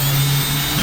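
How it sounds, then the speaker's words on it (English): A power drill bores a hole in an ABS door panel on a BMW Z3, heard as a brief, steady, close motor whine. "I'm actually gonna go ahead and drill out the hole while the panel's up there"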